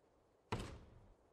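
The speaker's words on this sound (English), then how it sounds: "I'm knocking on a door." A single hard knock on a door in the video game Goose Goose Duck: one sharp thud that decays over about half a second, followed by a brief second tap at the very end.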